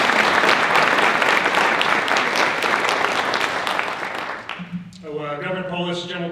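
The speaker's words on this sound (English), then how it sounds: "Let's give him a big round of applause." Applause from the guests at an elementary school ribbon-cutting ceremony for a colonel, loud sustained clapping that thins out near the end as a voice and music come in over it.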